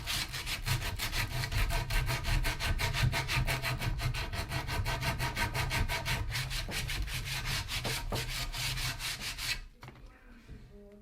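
A sanding sheet rubbed quickly back and forth along the rough edge of a wooden piece for a bird feeding station, making close, steady rhythmic rasping strokes that stop abruptly near the end.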